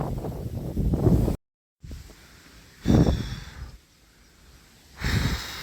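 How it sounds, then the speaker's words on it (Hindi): Strong gusting wind blows from the east across an open farm field. Heavy buffeting rumbles against the microphone in surges, with a brief dropout between gusts. "तेज हवा भी है, आंधी सी चल रही है पूरब की तरफ से"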